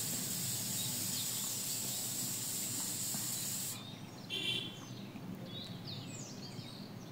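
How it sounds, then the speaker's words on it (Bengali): A pressure cooker cooking mixed vegetables with stalks lets out a loud, steady steam whistle-hiss for several seconds. It then cuts off to a quieter background hum with faint kitchen sounds. "সিপিটা লক করে আমি এখানে 4টার মতো শীষ দিব।"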